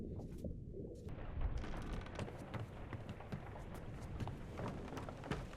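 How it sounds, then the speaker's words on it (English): Video game rain, dense and steady, patters and hisses on surfaces, starting quietly then thickening into a continuous downpour with scattered sharper drops. "Oh, it's raining."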